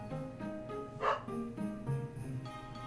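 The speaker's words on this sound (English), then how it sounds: "My dogs are barking in the background, I'm very sorry." Dogs bark in the background, several faint yips and bow-wows scattered over a few seconds, distant and soft with no talking.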